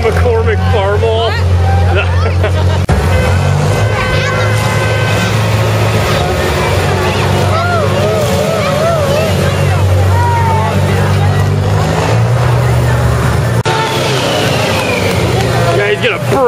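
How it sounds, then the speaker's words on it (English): McCormick Farmall tractors rumble past at a Christmas parade in Hartford, low chugging engine drone running steadily underneath a crowd's chatter and close voices talking over it. "Oh, there's more McCormick Farmalls."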